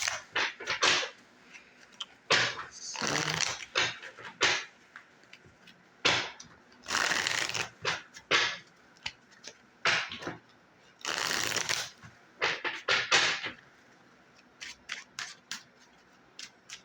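Playing cards are shuffled for a card reading, close and crisp, in repeated bursts of riffling and flicking with short pauses between, no talk.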